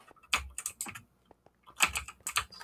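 Computer keyboard being typed on hurriedly, two quick bursts of sharp clacky keystrokes separated by a brief pause, close and crisp, with no talking.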